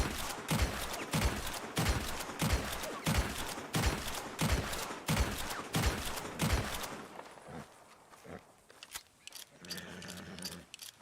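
A weapon firing in Red Dead Redemption 2: loud, evenly spaced heavy shots, roughly one every two-thirds of a second for about seven seconds, then quieter scattered clicks and rattles as the firing stops.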